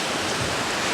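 Steady broadband rush of a waterfall pouring down into a river valley, loud, close and continuous, with no other sounds.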